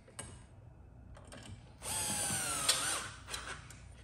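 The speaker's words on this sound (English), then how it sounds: "I'll put some screws in this ramp" Power drill driving screws into a pinball machine ramp: a few short taps and handling clicks, then a close whirring burst of drilling lasting over a second, followed by light clicks as it stops.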